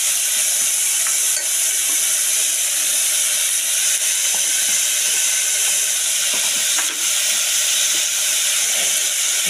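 Spices sizzle and hiss steadily in a hot pan for khichuri, a continuous frying sound with occasional faint stirring clicks, close and unbroken.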